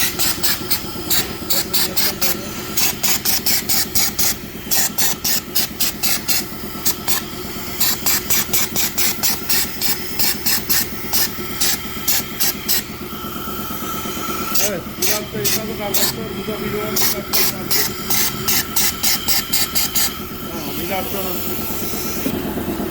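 A pressure washer or spray gun cleans the timing belt area of a Skoda 1.6 diesel engine in a workshop, giving a steady hissing spray broken by rapid pulsing bursts, close and loud throughout with someone talking over it.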